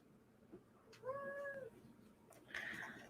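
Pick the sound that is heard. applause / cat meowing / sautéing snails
cat meowing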